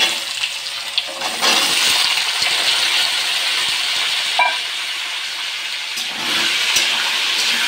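Cut potatoes tipped into hot oil with black cumin seeds, a loud steady sizzling hiss that surges as they go in and holds, with a brief clink of utensils.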